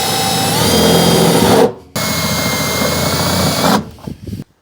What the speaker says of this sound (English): all the holes are drilled out. It was super easy using this cone drill bit, Christmas tree